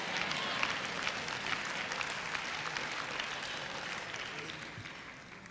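A church congregation claps their hands together in a sustained, dense patter of applause that holds steady before fading slightly at the end.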